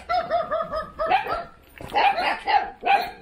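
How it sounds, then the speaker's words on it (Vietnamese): Dogs bark in quick repeated bursts near a highland village orchard, a run of rhythmic yaps followed by a short pause and then several more loud, overlapping barks. "Chó sủa quá trời."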